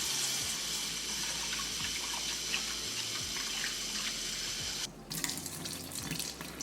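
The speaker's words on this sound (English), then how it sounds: "I'm going to wash dal with the cold water." Cold tap water runs into a bowl of mung dal lentils, a steady splashing and rushing of water being filled and swished, continuous and close with no speech.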